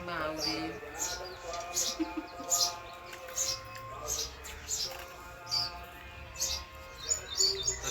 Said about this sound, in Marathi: चिमण्याचा आवाज असा मस्त येते आमच्या घरी मस्त आवाज येते